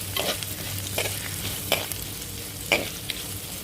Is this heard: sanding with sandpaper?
no